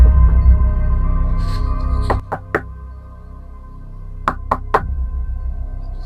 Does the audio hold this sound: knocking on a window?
yes